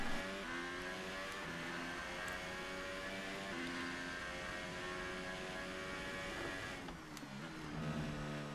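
A Formula 1 race car in F1 2018 screams along steadily at high revs, with stepped rising pitch through gear changes and a brief drop near the end, moderately faint and heard alone.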